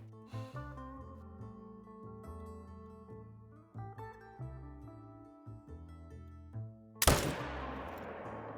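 A single loud rifle shot aimed at a bear 350 yards away in the hunting game Call of the Wild cracks out sharply after a long stretch of quiet background music, then its echo tails off.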